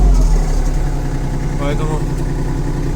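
A Kubota GL260 mini tractor with a heated cab idles steadily while slowly warming up, a low continuous engine rumble close by with someone talking over it.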